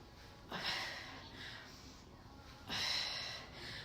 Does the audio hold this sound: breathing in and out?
yes